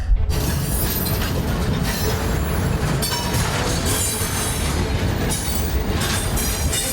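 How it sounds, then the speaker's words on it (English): A 2.5-kilometre iron ore freight train carrying over 10,000 tons rolls past close by in the Sahara Desert, a steady heavy rumble of wagons with metallic rattling and faint wheel squeal throughout. "This is the longest and most dangerous ride in the world of a train cargo."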